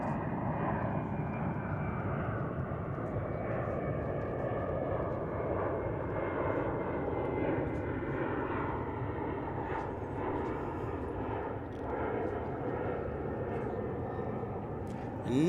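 UPS and Portland flights departing DFW International Airport produce a loud, continuous engine roar, a broad rumbling drone that holds steady for the whole stretch, heard from the ground at a distance.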